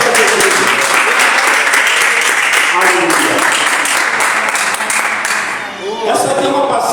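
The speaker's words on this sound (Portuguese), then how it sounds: "Aplaude o Senhor Jesus." A church congregation breaks into loud, sustained applause during a worship service, dense clapping continuing throughout with a voice calling out over it and fading slightly near the end.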